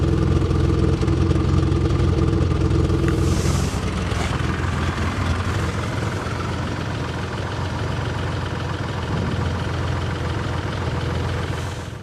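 A Maserati-built V6 in a Citroen idles roughly and lumpily, a loud, steady close-up drone with a faint uneven pulse and no voices over it.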